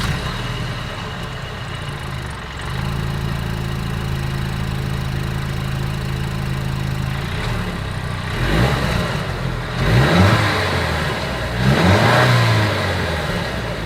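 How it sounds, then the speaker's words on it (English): A Mercedes-Benz E350 exhaust idles with a low steady burble, then is revved several times in quick blips that rise and fall, loud and close with no talking. "here is that exhaust clip."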